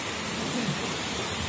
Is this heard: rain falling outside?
yes